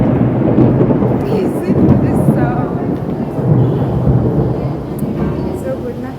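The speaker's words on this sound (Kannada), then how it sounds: "ಮಳೆ ಬಂದು" Heavy rain falls outdoors during a thunderstorm, with loud, continuous rumbling thunder that swells and fades and a dense wash of rainfall; voices can be heard faintly at times.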